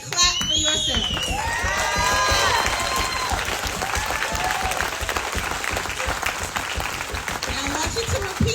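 Loud applause from a large audience at a women's empowerment session, dense sustained clapping with voices and cheers running through it for the whole stretch.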